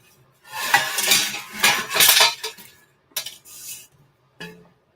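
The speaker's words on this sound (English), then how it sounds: "Sounds like that one's got some gravel in it." Gravel rattles and clinks inside an antique metal gold pan, a few bursts of close, bright shaking with short pauses between them and no talk.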